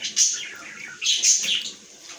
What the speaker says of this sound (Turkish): Kuşlarımız hiç susmuyor.